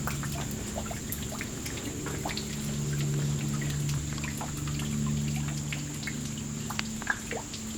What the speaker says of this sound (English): You can hear it barely falling. This is a small waterfall.